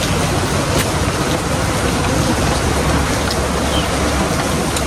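Heavy rain pouring down in a dense, loud, continuous hiss, close by and unbroken throughout.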